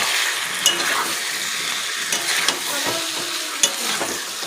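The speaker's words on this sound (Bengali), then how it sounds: "এদিকে রান্না হচ্ছে, চিকেন কষানো চলছে।" Chicken sautéing in a pan sizzles steadily up close, with scraping stirs and a few sharp metallic clinks of a spoon against the pan.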